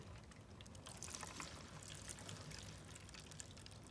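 Fuel pours from a container into a lawn mower's tank as a soft, continuous liquid trickle and gurgle, close and quiet, with no talking.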